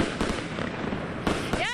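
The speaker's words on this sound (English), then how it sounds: "we're having a great time with the fireworks down here at the South Bend River Lights" Fireworks crack and boom at a riverside show by the South Bend River Lights, a dense, continuous crackle of bursts with sharper reports near the end, under crowd noise and faint talk.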